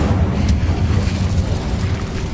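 Incendio fire spell cast in Hogwarts Legacy, a dense roaring burst of flame with low rumbling body that swells and fades over a couple of seconds, loud and close with no talk.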